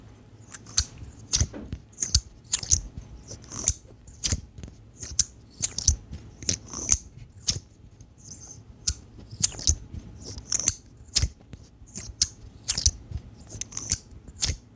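Rapid, crisp clicking and snapping from a Compoform V3 fidget slider being worked back and forth, dense irregular bursts continuing steadily, close up with no voices.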